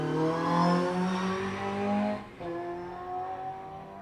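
A sprint car on the Littleferry layout at Golspie accelerates hard, its engine note climbing through the gears, loud and close with a brief dip at a gear change before pulling again.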